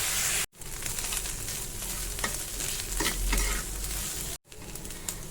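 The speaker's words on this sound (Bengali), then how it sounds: "এখন হচ্ছে আমি শুটকিটা প্রথমে ভেজে নিব।" Dried shrimp fry in hot oil in a cooking pot, a steady close sizzle that runs through the whole clip with stirring scrapes, broken by two brief gaps.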